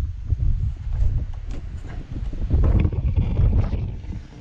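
Gusty wind buffets an outdoor cold-smoking setup for goat sausages, a loud low rumble that rises and falls in surges over about four seconds.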